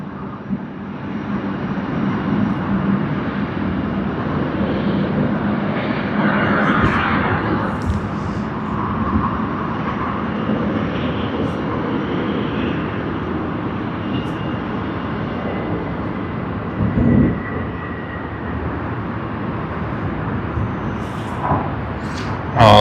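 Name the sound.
Delta airliner in 100-year livery accelerating on takeoff roll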